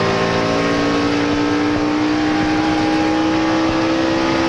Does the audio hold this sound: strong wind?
no